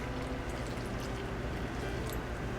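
Water poured into a big bowl holding bread flour for sourdough pizza dough makes a steady, close, continuous rush that runs for the whole stretch without breaks.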